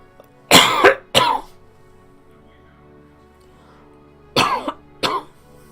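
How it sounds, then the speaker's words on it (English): Two bursts of harsh coughing, each a pair of rough, close coughs, separated by a few seconds of near silence, loud and dry with a throat-clearing edge. "Can't shake this cough today."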